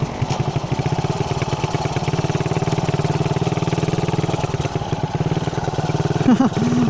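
Suzuki Raider 150 motorcycle engine racing at close range, a loud steady buzzing drone with fast pulsing rhythm that holds throughout, rising briefly near the end.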